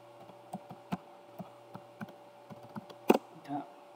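Scattered keystrokes on a computer keyboard enter a username and password to log in to an Alcatel switch, quiet irregular clicks over a steady hum with a louder double tap near the end.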